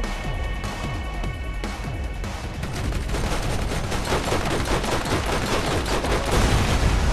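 Dense automatic gunfire in Borderlands, rapid overlapping shots rattling loudly and continuously, growing heavier and more chaotic toward the end.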